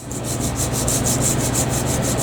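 A rubber roller pressing anti-skid tape down: a steady, close, gritty rubbing with a faint regular pulsing as the roller turns, with no talking.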